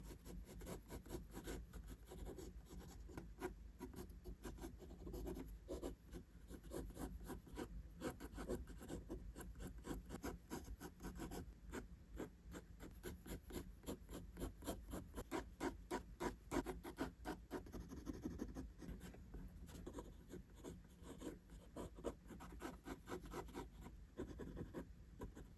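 Pencil drawing on paper during a figure-drawing lesson, darkening the outline with quiet, rapid back-and-forth strokes repeating steadily at close range.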